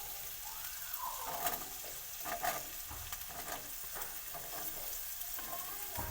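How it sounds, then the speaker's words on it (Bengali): Chopped ash gourd hits a pan of lightly fried spice paste with water in it. A steady moist sizzle and bubbling carry on throughout, with a few louder scrapes and clatters as the pieces are stirred in. No one speaks. "মশলাটা হালকা কষে নেওয়া হয়ে গেছে, এতে কেটে রাখা চাল কুমড়োটা দিয়ে দেবো।"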